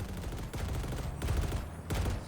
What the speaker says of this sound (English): Where are those cannons coming from?